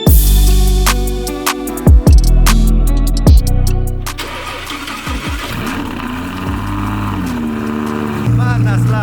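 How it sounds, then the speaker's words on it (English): A car that has sat unused for a long time starts up loudly, cranking into a roaring, rumbling idle that fills the space close by, with a person speaking briefly. "Man, that's loud. I forgot how loud that car can be."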